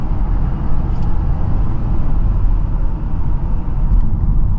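Petrol engine of a Mazda6 wagon running steadily, a loud, continuous low drone with a deep bass rumble, heard from inside the car.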